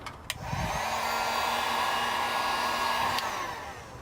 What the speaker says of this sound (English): Now we'll heat shrink them.